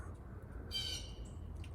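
Outdoors in a backyard, a blue jay lets out one harsh, raspy squawk near the middle, loud and fairly close over a constant low hum of ambient noise.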